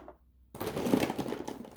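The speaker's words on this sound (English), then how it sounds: "if you hear that shuffling, it's me looking for markers" Coloring markers rattle and clatter as someone shuffles through a box of them, a brief close, busy plastic rustle that starts abruptly after a quiet moment.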